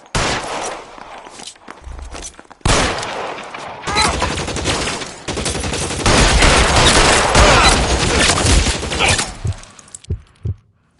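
Dense video-game gunfire on PS4, with a rapid burst of shots that swells into sustained loud volleys and ends in a few scattered single shots.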